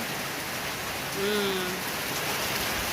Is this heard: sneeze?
no